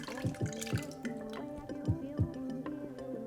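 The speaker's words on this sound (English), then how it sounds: "Now pour your ingredients straight into the hurricane glass." Drink ingredients are poured into a hurricane glass for a blackberry mojito, giving a few soft splashes and drips in an irregular rhythm, close and fairly quiet.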